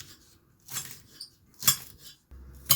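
A knife trims the ends off a spring onion on a board, making a few sharp clicks and taps spaced unevenly, fairly close and moderately quiet, with no talking.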